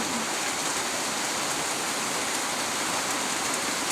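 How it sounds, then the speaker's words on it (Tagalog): Heavy rain pours steadily as a dense, even hiss, loud and continuous with no voices. "Super lakas po ng ulan dito sa amin."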